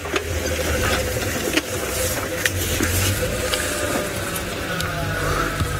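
On a safari game drive, a vehicle's engine runs steadily at close range. The hum is constant and broad, with scattered faint clicks and rustles around it and no voices.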